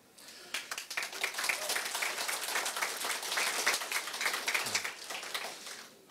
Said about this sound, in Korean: 이런 얘기에도 박수를 치시는군요.